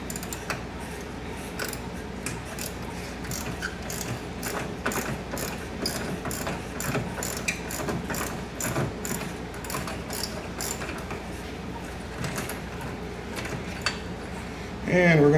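A ratchet wrench loosens 12 mm radiator bolts on a Mitsubishi Outlander, giving a quick series of close metallic clicks in uneven bursts, followed by a louder clunk at the end.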